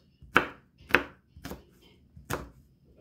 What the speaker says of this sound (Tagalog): Gayatin ang bawang ng maliliit.